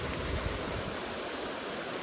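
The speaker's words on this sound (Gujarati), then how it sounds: "આ ખેતરનું પાણી આવે છે એ સીધું આમાં થઈને ડાયરેક્ટ નદીમાં જાય." Rainwater running off a field pours straight into a river during heavy rain, a steady, close rush of broadband water noise with no pauses or voices.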